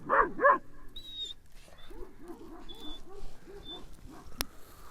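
Two sharp dog barks up close, then a series of softer, repeated barks and yelps from dogs farther away.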